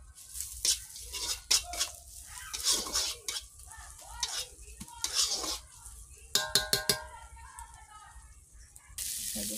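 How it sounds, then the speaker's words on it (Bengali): Potatoes with turmeric and Kashmiri chilli powder are stirred and sautéed in oil in a pan, with a soft sizzle under repeated scraping strokes and sharp metallic clinks of the spoon against the pan. "এটাকে কষিয়ে নেব।"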